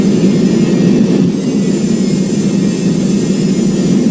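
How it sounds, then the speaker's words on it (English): Jet engines on an Aerosucre cargo aircraft roar at takeoff power in the Roblox game Project Flight, a loud, steady rumble that dips slightly partway through. "They were rolling. Okay, 140 V1."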